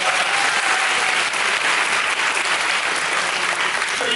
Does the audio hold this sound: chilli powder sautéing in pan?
no